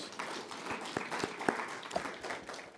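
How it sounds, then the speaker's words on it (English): A conference audience breaks into steady applause, many hands clapping in a dense, moderately loud patter with a few sharper individual claps standing out. "Why don't we give her a big round of applause?"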